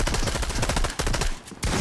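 Rapid bursts of automatic gunfire in an Unreal video game match, loud dense volleys that break off briefly near the end before resuming.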